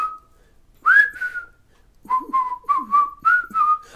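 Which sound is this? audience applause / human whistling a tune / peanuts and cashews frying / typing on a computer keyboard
human whistling a tune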